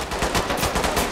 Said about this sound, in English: Ricochets, guys. Bullets.